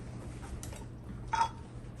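A metal canning lid being set onto a glass jar of home-canned butter, giving a single short, light metallic clink over a quiet background hum.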